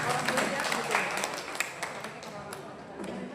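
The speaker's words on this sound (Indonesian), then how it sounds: "Mohon tepuk tangan ya" An audience at an Independence Day religious lecture for school alumni gives a round of applause, soft and somewhat distant, a steady patter of many hands with a few sharper claps and murmuring voices.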